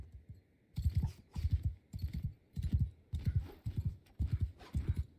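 Horse hooves gallop in the video game Mount & Blade 2: Bannerlord, a rhythmic, evenly spaced clip-clop of paired hoofbeats that repeats steadily and sounds close, with no talk over it.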